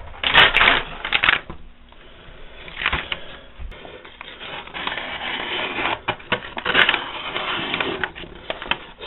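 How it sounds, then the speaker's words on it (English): An old rusted file knife slices through a chunk of paper, giving crisp, rasping bursts of cutting and crunching that come in uneven rhythmic waves, close and fairly loud. "Let's see if I can cut a chunk of paper."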